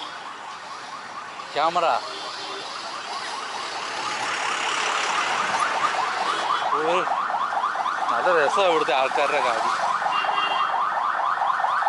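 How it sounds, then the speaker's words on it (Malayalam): An ambulance siren wails with rapid repeating rises and falls on a dusty road in Tamil Nadu. It grows louder as it approaches through traffic, while someone talks over it. "ആംബുലൻസ് എന്തോ പറഞ്ഞു വരുന്നത്"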